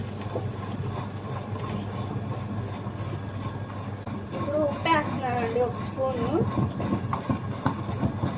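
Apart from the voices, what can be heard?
wet grinder running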